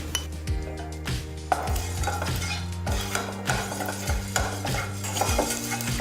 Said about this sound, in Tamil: இப்போ மல்லியும் நல்லா ஃப்ரை ஆயிடுச்சு.